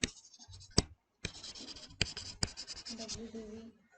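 Pen scratching on paper while writing out a sale consideration figure for a capital gains sum, a steady run of close, dry strokes broken by a few sharp taps and brief pauses.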